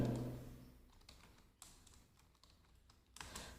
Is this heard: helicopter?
no